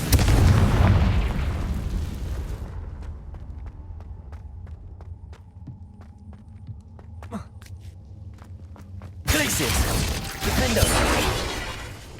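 A Confringo blasting spell in Hogwarts Legacy produces a heavy, roaring explosive burst that fades into quieter clicks and rustles. A second loud rumbling blast rises near the end. No one talks.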